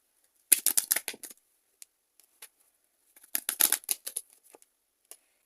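Tarot cards drawn and shuffled from a deck, quick close bursts of papery riffling and snapping in two clusters separated by quiet gaps, with a few single soft flicks.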